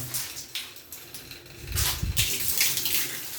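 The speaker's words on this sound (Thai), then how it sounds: "น้ำอาจจะไม่ได้ไหลแรงนะครับ แต่ก็ถือว่าอาบได้อยู่นะครับ" Water from a shower runs and splashes in a beach bathroom, a steady hiss with uneven gushes growing stronger toward the end, close and alone.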